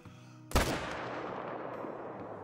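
A single hunting rifle shot in the game Call of the Wild cracks sharply after a quiet lead-in, then a long rolling echo fades slowly away.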